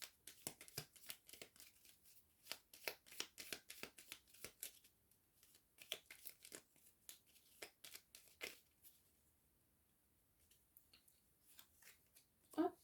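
Oracle cards being shuffled by hand in quick bursts of crisp riffling and slapping, with short pauses between rounds, close and fairly soft, with no talking.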